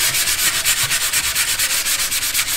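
Steady back-and-forth scrubbing on a stain, a rhythmic hissing rasp of a brush or pad rubbing hard on a surface, close and continuous.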